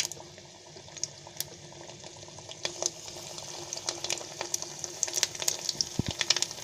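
Anarse, a rice-flour Diwali sweet, sizzling in hot oil as they are slowly dropped in and puff up, with a continuous bubbling hiss and scattered crackling pops that grow busier toward the end.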